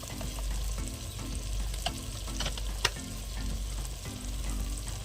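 Spices being stirred into biryani in a clay pot over a wood-fired stove, giving a steady low sizzle with soft scraping strokes and a few sharp clinks of the spoon against the pot, no voices.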